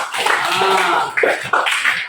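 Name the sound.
class applauding for a student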